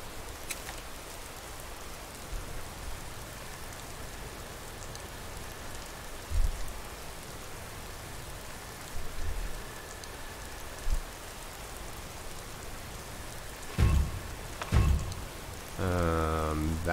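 Steady rain falling in the video game Skyrim, a soft continuous hiss of drops on surfaces with a few brief thumps and a short voiced sound near the end.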